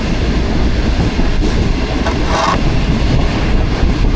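The Pakistan Business Express passenger train runs on the rails from Karachi toward Lahore, heard from onboard as a loud continuous rumble with faint wheel clatter and a brief squeal, no voices.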